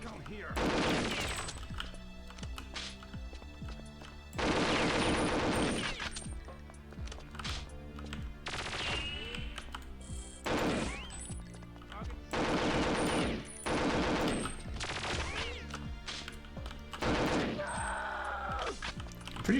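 Rapid bursts of K7 assault rifle fire in the shooter game Perfect Dark, loud and repeated in several long volleys over a driving music track, with short pauses between bursts.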